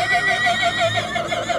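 A Marwari mare at a Punjab horse show gives a loud, close neigh, a wavering whinny running steadily for under two seconds with no talk over it.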